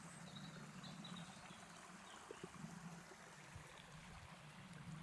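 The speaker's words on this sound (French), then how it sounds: "Je ne sais pas si vous pouvez entendre la rivière" A flowing river on a warm day makes a steady, faint trickling and gurgling wash of water, low and continuous throughout with no voices.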